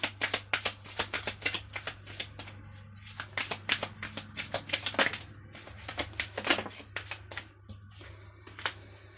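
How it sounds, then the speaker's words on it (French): Tarot-style cards shuffled and handled during a card reading make a rapid run of close, crisp flicks and slaps, dense at first and then thinning into scattered taps, with no talk. "je suis désolée si on entend beaucoup les cartes"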